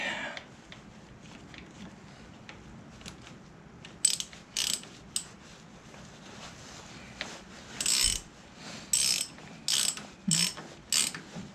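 Hand ratchet tightening a bolt on a David Brown 996 tractor during wing and final drive removal, heard as several short bursts of close, sharp metallic clicking separated by pauses over a low background hum.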